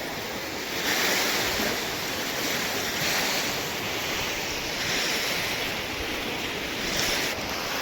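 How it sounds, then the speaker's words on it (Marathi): Flood water on the swollen Krishna river rushes steadily against and along a bridge during a major flood, a continuous loud broadband roar with a slight wind buffet, no voices. "पाणी होलातून दिसतंय आणि पूर्ण पुलाला घासून चाललंय"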